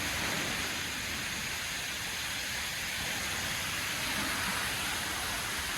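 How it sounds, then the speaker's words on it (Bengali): Heavy rain at Langfoss waterfall in Norway, a dense, unbroken broadband roar of rain and falling water that holds level throughout with no voices. "প্রচন্ড বৃষ্টি হচ্ছে বৃষ্টির তীব্রতাও বাড়ছে এখানে"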